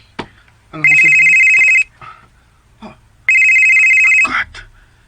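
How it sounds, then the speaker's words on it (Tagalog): A cellphone rings loudly with a bright electronic tone in two sustained bursts about a second each, separated by a short gap, with brief speech-like sounds between them. "Ang akong cellphone."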